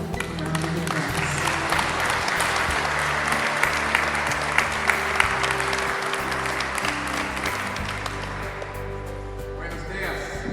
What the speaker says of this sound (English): would you please join me in giving him a round of applause?